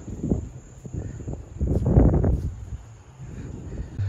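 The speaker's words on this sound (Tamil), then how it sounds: "செம்ம காற்று, பீச்சு காற்று" Strong sea breeze on a large open rooftop terrace at a beach resort buffets the microphone in rumbling, surging gusts that swell and ease.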